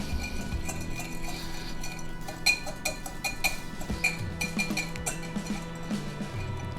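A utensil stirs a salad dressing of roasted garlic, salt and pepper in a bowl, giving soft, steady clinks and scrapes against the bowl with no one talking.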